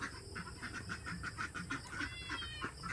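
Chickens cluck softly in a quick, uneven patter over faint background noise.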